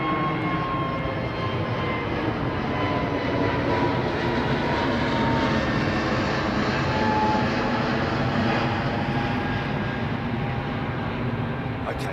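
A Biman Boeing 787 airliner flies near London Heathrow, its jet engines giving a steady, broad rumbling roar with a faint whine held at an even level throughout.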